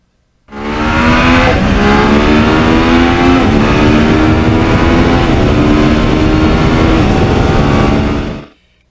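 A 2009 Yamaha R1 with a crossplane engine, loud and close, its exhaust note climbing steadily in pitch through a sustained rev for about eight seconds before cutting off.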